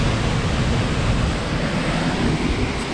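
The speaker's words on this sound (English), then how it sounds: "you probably can't hear me from the waterfall" Steady, loud broadband rush of a waterfall close by, a continuous roar with no breaks and no voices over it.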